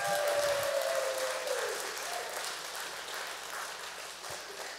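Lecture audience at Laney College applauding a speaker, a steady even wash of clapping lasting the whole stretch, with a brief tonal whoop or cheer early on.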